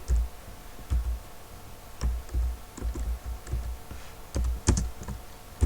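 Keys on a computer keyboard clack in uneven bursts as text is typed into a word processor, close and moderately quiet, with short pauses between clusters of keystrokes and no talking.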